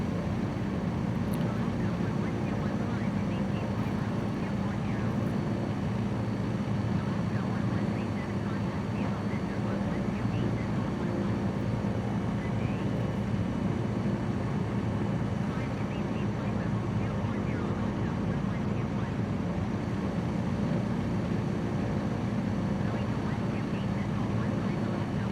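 Aircraft engine in Microsoft Flight Simulator 2020 droning as a steady, unbroken hum throughout, with a voice talking faintly over it.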